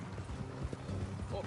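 Horse hooves in Red Dead Redemption 2 clip-clop at a steady walking pace beneath talk, with a brief whinny near the end.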